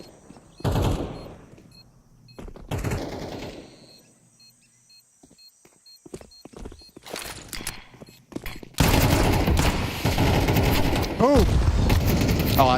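Counter-Strike gunfire during a pro league esports match: loud bursts of shots early, then a long dense stretch of rapid automatic fire, with caster commentary talking over the action.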